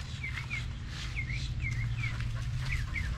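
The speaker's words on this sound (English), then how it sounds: "Birds over there." Birds call outdoors in short, repeated chirping notes at moderate distance, roughly two per second, over a steady low background rumble.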